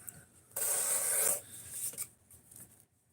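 A knife blade drawn across a sharpening stone at an 18-degree angle, one close, bright rasping stroke lasting under a second, followed by a fainter short scrape, quiet with no talking.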